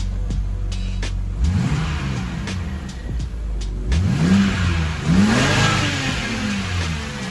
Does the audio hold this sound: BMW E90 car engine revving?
yes